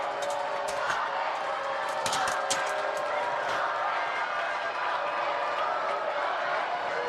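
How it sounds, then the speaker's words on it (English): A basketball crowd in a school gym cheers and murmurs steadily during a Tuesday night high school game, with occasional sharp thumps and shoe squeaks, while an announcer talks over it. "you can probably hear the Doniphan West crowd"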